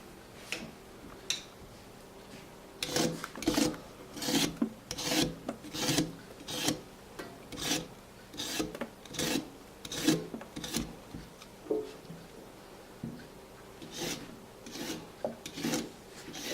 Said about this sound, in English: So you just need to get a little bit of the dirt off it at first.